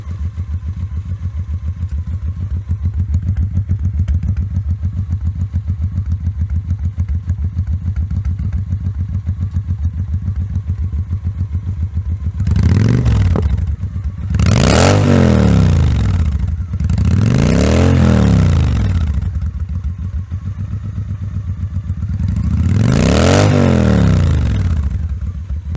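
V-twin motorcycle fitted with Vance & Hines chrome exhaust, idling steadily then revved hard four times, each loud rising and falling blip standing alone and close.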